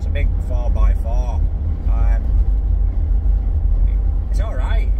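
Ineos Grenadier 4x4 rolling along the road, a deep steady engine and tyre rumble filling the cabin, with someone talking over it at intervals.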